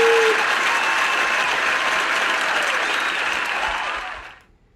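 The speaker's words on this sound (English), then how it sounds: "let's give them a warm round of applause" Warm studio audience applause: a dense, steady wash of clapping that holds evenly for about four seconds, then fades quickly to silence.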